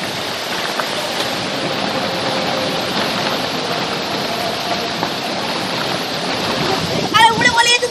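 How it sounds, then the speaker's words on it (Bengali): Steady rain driven by stormy gusting wind in Basirhat, a continuous dense roar that stays loud throughout, with a voice faintly audible near the end. "বসিরহাটের ছবি দেখছেন, যেখানে ঝোড়ো হাওয়ার সঙ্গে বৃষ্টি"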